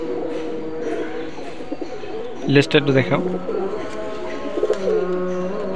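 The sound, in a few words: male Khulna chot pigeon cooing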